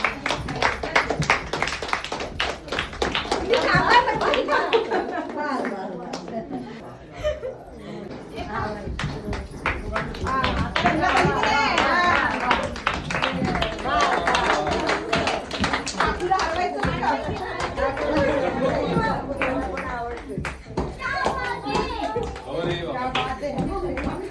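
Rhythmic hand clapping at a Kanubai Mata puja held at home, an ongoing beat running through the whole stretch under constant lively chatter, laughter and voices close by.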